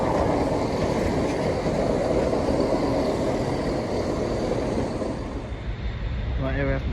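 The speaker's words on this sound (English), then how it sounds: "here comes the 1445 cross-country service to Birmingham New Street from Leicester" A CrossCountry passenger service to Birmingham New Street from Leicester rushes past on the Trent Valley line, a loud steady roar of wheels on rail that stays close the whole time and eases slightly near the end.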